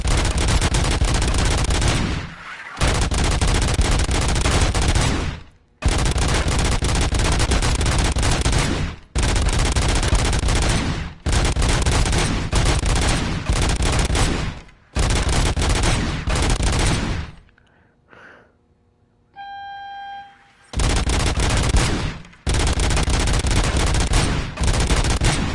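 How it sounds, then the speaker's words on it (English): Full-auto gunfire from RoboCop: Rogue City, long loud sustained bursts of rapid fire broken by short pauses, with a brief quieter gap near the end before one more burst. "Well, I mean, I'm firing full auto."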